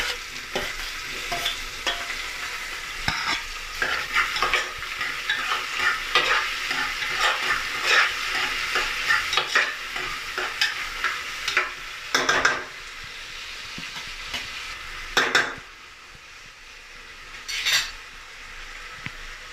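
Tomatoes stirred and frying in a pan while cooking bisi bele bath: a steady sizzle with repeated scraping and clinks of a utensil against the metal, close and continuous, easing off near the end.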